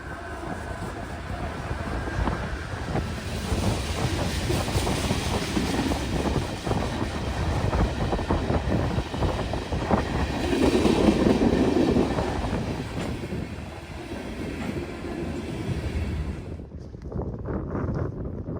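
A Norfolk Southern freight train, NS-197, led by an ES-44 locomotive, rolls past in Muncie with a steady heavy rumble and rail clatter. Wind buffets the microphone throughout, and the sound drops away abruptly near the end.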